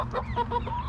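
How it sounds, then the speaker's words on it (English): A flock of chickens at a backyard coop clucks close by, several short, overlapping clucks in a quick, uneven run with no talking. "we got a whole bunch of chickens."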